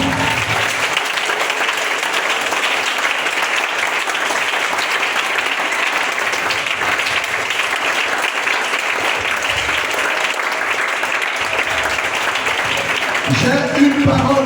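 A church congregation at a French-language service applauds loudly and continuously, a dense sustained clapping that fills the room and swells slightly near the end.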